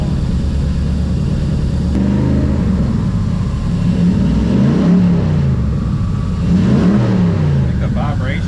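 A twin-turbo Ford Raptor-swapped Crown Victoria engine idles loudly then revs in several rising and falling sweeps, the pitch climbing and dropping repeatedly, with people talking over it.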